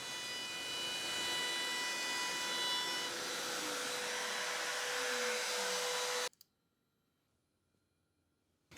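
A CNC router cuts wooden tenons with a steady, loud high-pitched whine and hiss for about six seconds, a slowly falling tone running underneath, before the sound stops abruptly into near silence.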